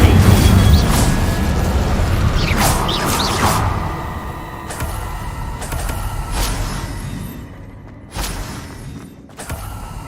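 Incendio fire spell blasts in the video game Hogwarts Legacy, loud whooshing booms that fade, followed by several sharper, softer bursts later on.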